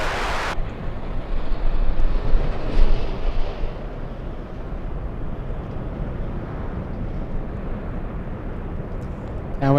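Broadband roar of a Delta jet taking off from runway 24 left at LAX, sustained and fairly loud, swelling early then holding steady, with a voice speaking over it.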